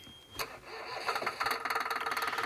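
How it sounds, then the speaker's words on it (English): A boat's inboard engine cranks and catches after a raw water pump service, rising from a brief churn into a steady, rhythmic idle that is moderately close with no talk over it. "There you can see straight away the engine starting and the water's flowing through the filter system"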